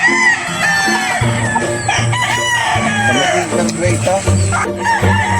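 Several gamefowl roosters crow repeatedly at a gamefarm amid steady clucking and farmyard chatter, loud and close, with overlapping calls throughout.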